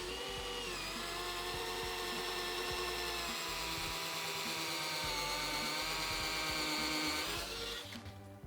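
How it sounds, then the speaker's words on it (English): A cheap power drill bores into 3/4 inch plywood with a loud steady motor whine, its pitch dipping slightly as the bit loads up and then winding down at the end, with no talk. "Let's go ahead and try and drill this. By the way, this is a 3/4 inch plywood, drilling also into hardwood."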